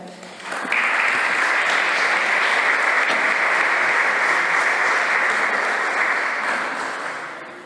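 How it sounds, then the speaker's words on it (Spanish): Audience applause at a Corpus Christi lecture in Chiclana de la Frontera, a broad steady roar of clapping that starts abruptly, holds evenly for several seconds and fades slightly at the end. "Les ruego que me acompañen con un aplauso para recibir a don Jesús Romero Aragón"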